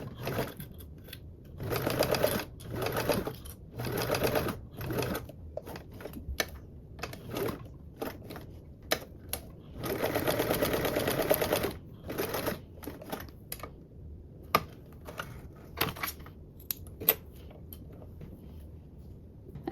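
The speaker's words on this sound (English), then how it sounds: "Now we can top stitch around our perimeter with a 1/8 seam allowance." Sewing machine top stitching around the perimeter of a small fabric pack, bursts of rapid mechanical stitching in short and longer runs separated by pauses, close and fairly loud.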